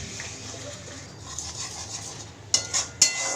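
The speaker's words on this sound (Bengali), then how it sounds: "দিয়ে এবার ওই ফুলকপির পাতা বাটাটা দিয়ে দিচ্ছি।" Cauliflower leaf paste goes into hot oil tempered with black cumin in a wok, a faint low hiss followed by two sharp clanks of a spatula stirring against the metal.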